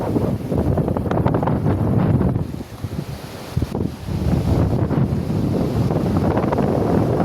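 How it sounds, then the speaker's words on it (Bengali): Sea waves roll in at Parikhi beach in Odisha as the tide rises, a steady loud roar of surf with heavy wind buffeting the microphone, briefly dipping midway before swelling again. "এখন ঢেউ বেশ বাড়ছে।"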